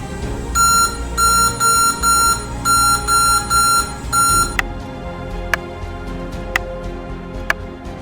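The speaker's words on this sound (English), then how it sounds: "There will be beeps and nothing on the screen." A loud electronic beep pattern from a Lenovo ThinkPad X1 laptop with no RAM installed: several short tonal beeps in quick succession, then single sharp beeps spaced about a second apart.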